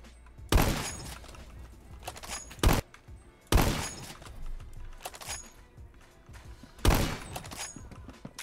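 M1903 bolt-action rifle fire in the Phantom Forces shooter game: four loud, sharp gunshots spaced a second or more apart, each with a short ringing tail, alongside faint in-game background noise.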